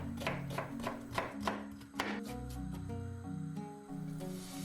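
A medium onion is chopped with a knife on a board for Turkish lentil soup, a quick run of crisp knife taps in the first two seconds, close by, over steady background music.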